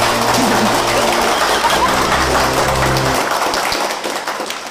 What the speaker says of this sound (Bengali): হয়ে যাক আর একবার হাততালি